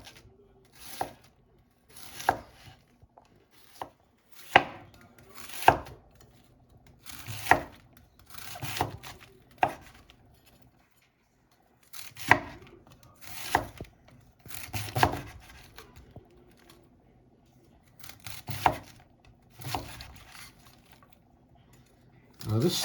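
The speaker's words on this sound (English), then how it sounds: "I'm using my chef knife, and I'm just slicing this cabbage, so we get a nice thin slice here" A sharp chef knife slices cabbage thinly on a board for Jamaican brown stew chicken, with close, crisp cuts in irregular bursts of several strokes separated by brief pauses.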